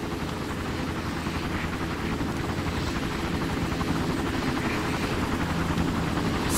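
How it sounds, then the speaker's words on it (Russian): Several helicopters in the shooter game Far Cry keep up a continuous rotor drone with a steady, throbbing chop, loud and constant throughout, with no talking. "Сколько вертолетов здесь,"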